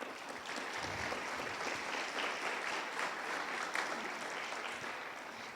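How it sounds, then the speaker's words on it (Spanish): A church congregation claps for the King in a steady, dense round of applause that holds for several seconds without talk. "Dale palmas al Rey"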